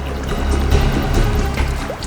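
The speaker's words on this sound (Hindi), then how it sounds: "पानी बहने की आवाज आ रही है।" Continuous flowing water rushes and gurgles steadily at close range, a dense wash of sound with no speech.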